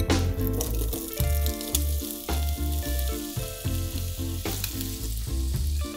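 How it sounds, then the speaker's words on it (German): Potatoes fry in a pan for a one-pot minced meat and potato dish, with a loud, steady sizzle broken by rhythmic scraping and stirring, no voices. "Und als nächstes brate ich die Kartoffeln."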